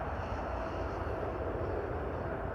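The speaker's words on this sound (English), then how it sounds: "What a sight, what a sound, what an absolute beauty of a plane." A fixed-wing airplane passes at Amsterdam Airport, a distant, steady roar of jet engines with a broad wash of noise that stays even and fairly faint throughout.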